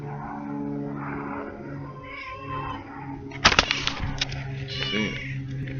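A cat gives a short meow over a steady low hum of background noise, followed by some rustling.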